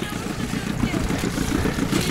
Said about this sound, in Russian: потому что у меня мотор Yamaha